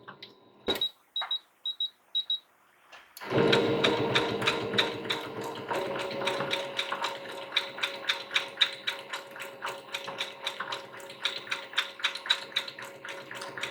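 A sewing machine stitches a raw edge applique vine on a fall pumpkin quilt block. A few clicks and beeps come first, then a steady, close, rapid mechanical stitching rhythm with a constant motor whine.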